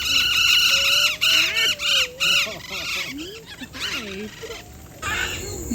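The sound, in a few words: colourful birds squawking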